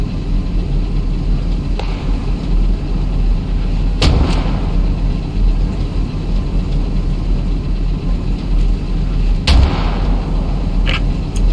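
Sparse gunshots ring out over a steady low engine rumble, with a few distinct sharp reports spaced several seconds apart at moderate loudness.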